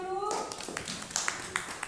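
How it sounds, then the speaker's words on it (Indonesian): Scattered clapping from a classroom of students after a teacher's prompt, a few irregular hand claps following a spoken voice and continuing lightly to the end. "Beri tepuk tangan dulu."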